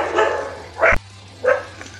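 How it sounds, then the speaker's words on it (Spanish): Dogs barking somewhere nearby, two short separate barks with a pause between them over a low steady hum. "están ladrando los perros ahora"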